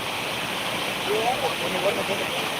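Periya Canal waterfall near Munnar gives a steady, loud, broadband roar of falling water, with a faint voice barely showing through the rush.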